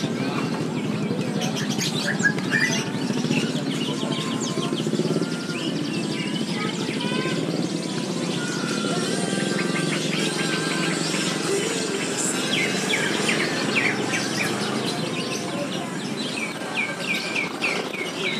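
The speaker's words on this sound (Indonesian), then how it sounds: "Ini burungnya bunyi banget, bunyi terus nih. Kacer ya" An oriental magpie-robin sings repeatedly amid a busy outdoor chorus of insects and other chirping birds, with a steady background hum throughout.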